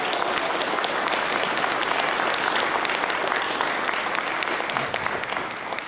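An audience at a legislative district candidate forum claps in sustained, dense applause. It stays loud and even for several seconds, then begins to thin at the end.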